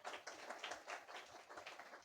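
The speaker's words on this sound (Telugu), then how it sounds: "తనకిష్టమైన పాత్రగా చేసుకుని గట్టిగా చప్పట్లు కొడదాం." A church audience at a Telugu Christian revival meeting claps in quick, irregular bursts, faint and somewhat distant, with no talking over it.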